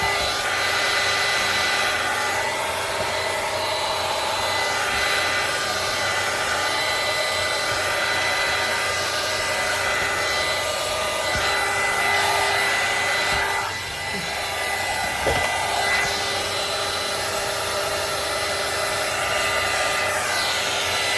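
A hair dryer runs continuously at close range, blowing on a wooden craft project, with a loud, steady whine and airflow hum that dips briefly partway through, alone without talk.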